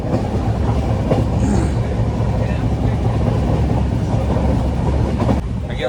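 A train rolls along the rails near New Jalpaiguri station with a steady rumble and rhythmic clatter, close and loud, then the noise drops away abruptly near the end.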